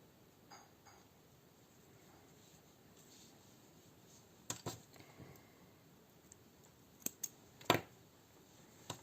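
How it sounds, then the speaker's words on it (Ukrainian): Scissors snip yarn ends after they are hidden in the seam of a crocheted hat, giving a few sharp, close clicks and snips near the end against a quiet room. "Ще сюди пускаю ці кінчики в шов ховаю їх і потім обрізаю"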